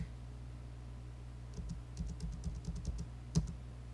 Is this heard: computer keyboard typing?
yes